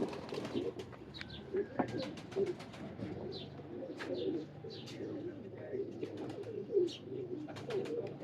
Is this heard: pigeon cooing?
yes